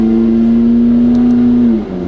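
A McLaren supercar engine hums loud and close with a steady tone while driving, then its pitch drops sharply as the paddle shifter changes gear near the end.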